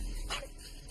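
A dog gives a single short, muffled bark or yip at another dog, brief and fairly faint against a low background hum.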